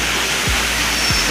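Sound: waterfall at Kailash cave

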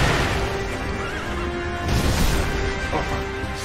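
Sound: horse neighing in Sekiro Shadows Die Twice video game

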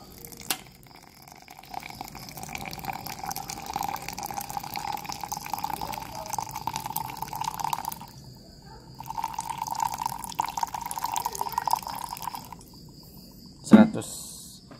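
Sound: pouring hot water into coffee grounds

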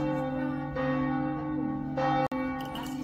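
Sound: church bells ringing at midday in Slovenia

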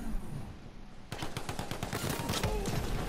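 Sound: gunshots in video game Borderlands 3

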